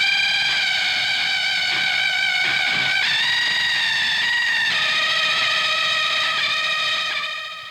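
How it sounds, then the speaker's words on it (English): A detuned synth runs through amplifiers and comes out as a sustained, organ-like chord, loud and close with a steady buzzing tone and a few subtle pitch shifts before fading at the end. "it sounds like this crazy organ sound"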